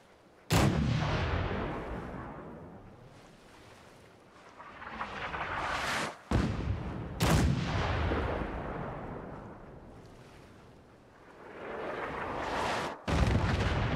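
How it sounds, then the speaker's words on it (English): Artillery strike in the video game Fallout 4: several huge booming blasts, each a sudden crack followed by a long rumbling roar that swells and fades, arriving one after another at a few seconds' spacing. "Smoke on the target. You might want to stand back. Yeah, you know, just in case. You know, explosions and things."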